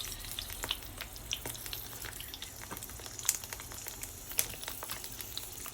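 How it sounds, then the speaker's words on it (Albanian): Peppers fry in oil in a pan as they are turned to the other side, a soft, steady crackling sizzle with scattered pops and spits, fairly faint and close. "Tash i kthejmë nga ana tjetër dhe nga ana tjetër do i skuqim në këtë mënyrë."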